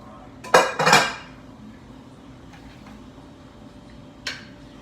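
A spoon stirring ground turkey in a chili pot gives a quick pair of clinks and scrapes against the pot, then near-quiet, and one last light tap a few seconds later.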